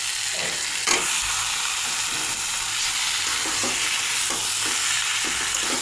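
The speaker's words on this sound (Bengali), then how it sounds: "মশলা কষানো হয়ে গেছে, এখন মাংস দিয়ে দেবো।" Chicken sizzles loudly in a pan of fried ground spice paste for a village-style chicken curry, a constant bright frying hiss broken by stirring scrapes and small knocks.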